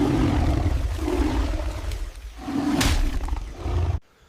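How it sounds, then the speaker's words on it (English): A tiger in a forest gives a long, deep roaring rumble that swells and fades over several seconds, loud and close, then cuts off abruptly. "The tiger was still there."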